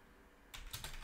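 Quick keystrokes on a computer keyboard, a short cluster of three or four soft clicks heard close up after a moment of quiet room hum.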